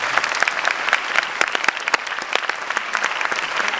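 A seminar audience claps in a brisk, crisp burst of applause, individual hand claps distinct and fairly close, steady throughout without a pause.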